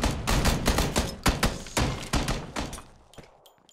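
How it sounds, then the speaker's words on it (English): Shotguns fire repeatedly in the video game PUBG, a rapid, loud series of booming blasts roughly every quarter second that thin out and fade toward the end. "getting fucking fired up by two shotguns"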